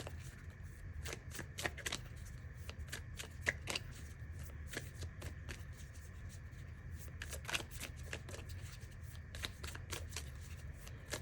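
Tarot cards are shuffled by hand, giving rapid, crisp clicking and riffling bursts in an irregular rhythm, close and moderately quiet, with no talking.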